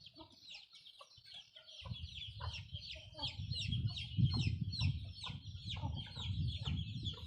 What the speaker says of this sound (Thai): ไก่มาสะเลยนะ